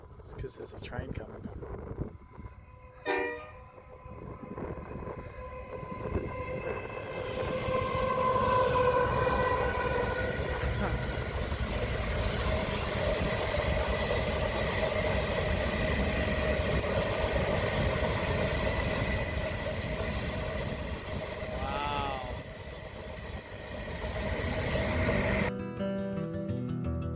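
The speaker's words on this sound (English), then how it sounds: "It's because there's a train coming." A train comes through a tunnel as a deep, steady roar that swells and holds for about twenty seconds, with a whistling, wind-like rush over it and a brief voice near the start.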